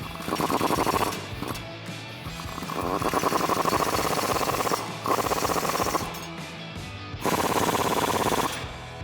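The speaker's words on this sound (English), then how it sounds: "Then we can tighten those up with a 19mm deep socket" Impact wrench driving U-bolt nuts on a Toyota Tacoma axle with a 19mm deep socket during a ReadyLIFT suspension lift install, several loud rapid hammering bursts separated by short pauses, close by.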